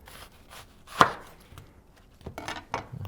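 A knife chops onion into large chunks on a cutting board in a home kitchen, with a few sharp, separate knocks, one notably louder than the rest.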